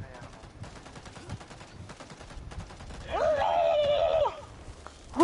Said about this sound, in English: Oh, they're shooting an animal.